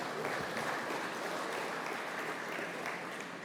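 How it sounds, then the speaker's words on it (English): Conference audience applause, a thick, steady wash of many clapping hands that holds evenly throughout and eases slightly at the end. "big round of applause to Martina and Brian for doing that with us."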